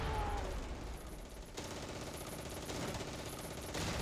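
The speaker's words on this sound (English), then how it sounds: "Alright, the mortars letting loose." Mortar fire in the Close Combat 3 wargame, a dense, continuous battle din of booms and crackling bursts that stays loud throughout.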